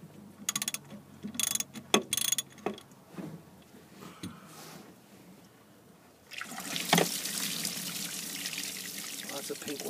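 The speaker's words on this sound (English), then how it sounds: "Lots of pink water coming out of there too." Pink, antifreeze-tinted water drains from a boat engine's exhaust manifold during winterizing. Metallic clicks and clanks of fittings being worked come first, then a steady, fairly close splashing pour runs through to the end.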